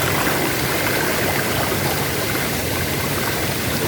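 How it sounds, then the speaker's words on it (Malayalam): A small forest stream in Arippa forest runs strongly during the monsoon, giving a loud, continuous close-up rush of water with no pauses or voices. "നല്ല ശക്തിയിൽ വെള്ളം ഒഴുകുന്നുണ്ട്"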